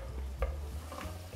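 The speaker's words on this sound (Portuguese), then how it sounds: "em uma panela vamos colocar azeite, vamos colocar alho, coloquei laminado" Sliced garlic frying in olive oil in a small pan, a low steady sizzle with a couple of soft stirring clacks, no voices.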